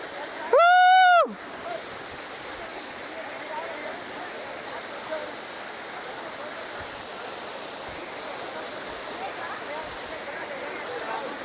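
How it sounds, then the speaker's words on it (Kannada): A waterfall and rushing stream on the Netravathi trek in Karnataka roar as a loud, steady broadband hiss throughout, briefly cut at the start by a short electronic tone. "ಫಾಲ್ಸ್ ಮಾತ್ರ ಸಕ್ಕತ್ತಾಗೈತೆ. Next level."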